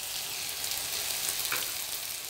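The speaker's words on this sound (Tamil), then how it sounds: "நம்ம வெங்காயம் நல்லா கடுகு உளுத்து பருப்பு போட்டு வெங்காயம் வதங்கிட்டு" Sliced onions fry in oil with mustard seeds and urad dal, giving a soft, steady sizzle and crackle that stays faint and even throughout.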